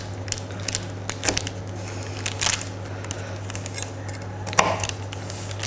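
A knife cuts through a warm homemade flapjack in a pan, producing soft, irregular crunching and scraping strokes at close range against a low steady background hum, with no talking.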